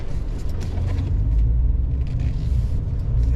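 2023 Ford Maverick XLT Hybrid pickup driving slowly through a tight turn, a low steady rumble of engine and road noise heard from inside, fairly quiet with no talking.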